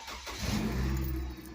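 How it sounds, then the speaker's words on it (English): A GMC Canyon/Colorado pickup cranks briefly and its engine catches, rising into a loud, close rumble that settles toward a steady idle. "Now we're gonna start the truck"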